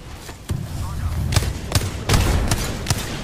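Explosive bangs from a grenade fight in Apex Legends ring out several times in close succession, sharp and loud, mixed with gunfire and heard under excited player talk.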